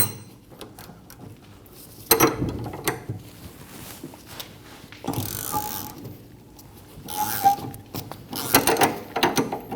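Ratchet spinning off a sway bar link nut on the rear suspension of a 2012-2022 Volkswagen Passat, with the stud held by a 6mm triple square; bursts of metallic clicking and clatter come in several short spells between quieter pauses.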